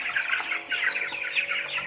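Broiler chickens in a large coop holding thousands of birds keep up a dense, continuous chorus of soft clucks and chirps, close and steady throughout.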